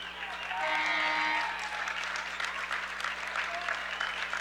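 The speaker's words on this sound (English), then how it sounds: "Standing ovation for the visiting crowd." Standing ovation from the visiting crowd at a high school boys basketball game in a gym, a sustained wash of clapping and cheering that swells early and holds steady across the stretch.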